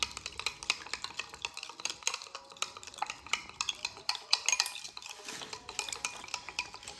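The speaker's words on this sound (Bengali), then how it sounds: "চন্দন ব্যবহার করলাম" Sandalwood being stirred into turmeric juice for homemade soap, a steady scraping and clinking of a spoon against a bowl with quick repeated strokes, close and fairly quiet, no voices.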